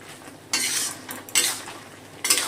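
Bottle gourd being sautéed in a pan with cumin, coriander and chili powders, heard as three bursts of scraping, stirring clatter over a soft background, with no voices.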